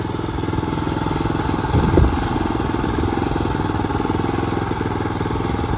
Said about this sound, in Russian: А это наш трактор,